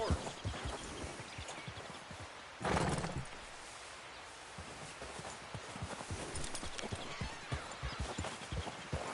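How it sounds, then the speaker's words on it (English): Horse hooves clip-clopping in Red Dead Redemption 2, a steady, close walking rhythm of hoof strikes that runs throughout, with a brief rushing noise burst early on. "Careful. control that horse."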